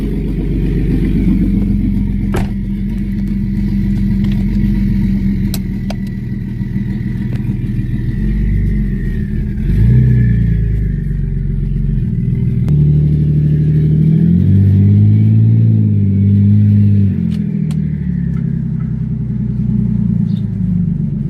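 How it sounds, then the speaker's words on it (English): A BMW E39 with a turbocharged M54 engine drives along, its loud, steady engine drone rising and falling as it revs and shifts, with no talking. "Let's drive this car."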